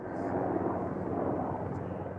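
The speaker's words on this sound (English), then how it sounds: "Heavy smoke filling the air and a red haze as aeroplanes and helicopters fly in and out all day." Aircraft and helicopters fly over a smoky bushfire zone, producing a steady, loud, broadband engine roar that stays constant throughout.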